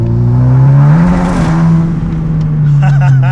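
A sleeper VW GTI on a street run, its engine revving loud and rough in a sustained rising-and-holding drone, very close, with people's voices faintly mixed in.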